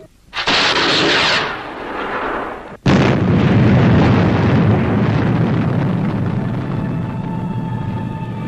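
Rocket ship engine igniting and launching, a loud roaring blast that cuts briefly, then bursts back into a sustained, powerful rumbling roar that holds for several seconds, close and without speech.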